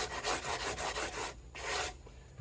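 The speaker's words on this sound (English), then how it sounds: "this just polishes the metal and gives the fretboard edge a little bit of nice, not quite rounded, but just, again, just kind of breaks that edge" Fine abrasive paper rubs back and forth over the metal fret ends of a Gretsch Streamliner guitar, a steady rhythmic rasping in close strokes with a brief pause near the end, no voices.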